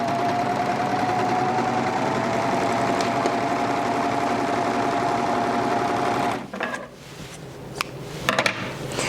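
A Bernette B48 overlock serger stitches and trims a neckline seam, running as a steady loud mechanical whir for about six seconds before stopping, followed by a few soft handling clicks and rustles.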